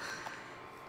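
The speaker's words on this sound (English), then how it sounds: "I want a hey and then a cough, cough, cough." A single short, loud cough bursts out close to the microphone at the very end, after near silence.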